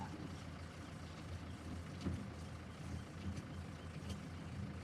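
A tractor engine drives a Bush Hog 286 rotary cutter fitted with a rebuilt slipper clutch, a faint, steady, low idling rumble heard from a distance with no talking.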